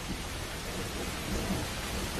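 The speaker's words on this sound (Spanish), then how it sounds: "En el apogeo de la estación húmeda llueve casi cada día." Heavy wet-season rain pours down steadily with a low rumble of thunder beneath it, a dense, even wash of noise that stays loud throughout with no voices.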